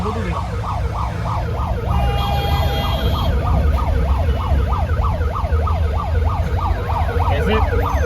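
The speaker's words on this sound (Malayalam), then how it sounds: "ഇത് നോക്കി ആംബുലൻസ് ഒരെണ്ണം കയറി വരുന്നുണ്ട്" A wailing ambulance siren cycles rapidly up and down, loud and close, over the rumble of traffic and engines on the Mysore–Bangalore expressway.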